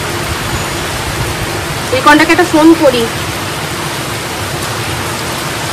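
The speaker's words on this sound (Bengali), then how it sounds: "আকাশ ভর্তি পুরো মেঘ, এত সহজে বৃষ্টি নাম মানে থামবে না," Heavy rain hisses steadily as a dense, even wash throughout, with a person speaking briefly over it in the middle.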